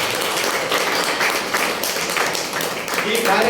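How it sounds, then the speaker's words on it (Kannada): Audience applause at a ceremony honouring guests with fruit and flowers, steady dense clapping filling the hall for a few seconds, with some background chatter mixed in. "ಮತ್ತೊಮ್ಮೆ ಜೋರಾಗಿ ಚಪ್ಪಾಳೆ."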